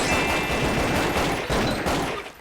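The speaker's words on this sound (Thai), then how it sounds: "แซนวิชิบะกำลังยิงอยู่" Dense bursts of gunfire in a Roblox prison-escape game rattle loud and close, with a brief break in the middle before the shots resume.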